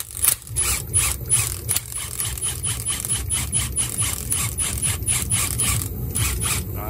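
Center nut and top mount being removed from a Mini Cooper strut with a tool, giving a steady run of close mechanical ratcheting clicks and grinding over low rumble.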